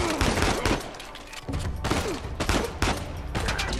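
Rapid gunfire in the Uncharted 4 video game: loud bursts of shots and automatic fire crowd together, near and harsh, with brief pauses between volleys and no voice heard.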